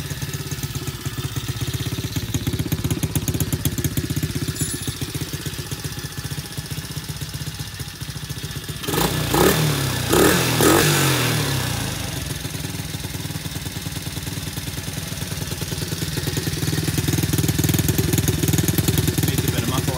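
A cheap secondhand pit bike runs after a carburetor rebuild, its engine putting out a loud, steady, raw-sounding drone that swells briefly in the middle before settling back to a continuous running note.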